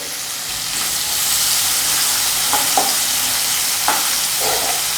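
Chopped onion frying in oil in a pan, a steady close sizzle and hiss throughout, with a few soft stirring scrapes and no voices.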